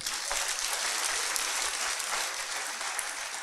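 A church congregation claps steadily, a dense and even wash of hand claps filling the hall for several seconds, with no voices standing out above it.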